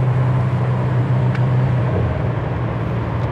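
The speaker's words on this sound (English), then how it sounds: "Man, that turbo sounds awesome." A 1987 Grand National with a turbocharged engine runs nearby, giving a loud, steady low rumble with a constant drone and a slight shift in tone partway through.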